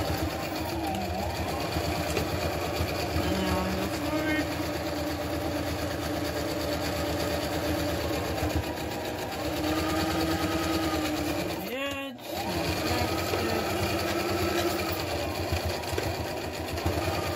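A sewing machine runs a back stitch on a surgical mask with a steady, close, high motor whir that stops briefly once near the end and then resumes, while a voice talks over it.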